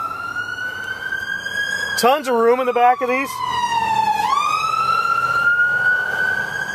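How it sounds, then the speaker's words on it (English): Ambulance siren passing on a street near a 2006 Dodge Ram 2500, a loud wail that sweeps up and down with a short rapid yelp, fading slightly as someone talks over it. "hopefully you can hear me now that the ambulance is gone"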